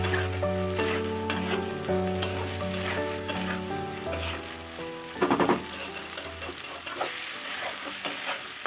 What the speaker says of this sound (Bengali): গ্যাসটাকে মিডিয়াম ফ্লেমে রেখে এভাবে কষিয়ে দিতে হবে